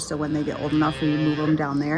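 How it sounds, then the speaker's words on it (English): Calves moo and bleat in an old barn, several drawn-out calls overlapping close by while someone talks over them. "you can hear my little babies mooing in the background"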